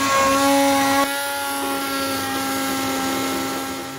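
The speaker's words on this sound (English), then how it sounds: "So I have one of these immersion blenders." Immersion blender running in beer cheese soup, a loud continuous motor drone with a sudden change in load partway through, then a steady buzzing hum that gradually fades.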